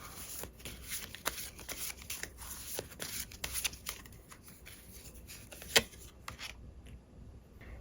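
Tarot cards are shuffled close up in a steady run of soft riffling and rubbing, with crisp snaps along the way and one sharper flick near the end.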